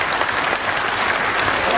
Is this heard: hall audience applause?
yes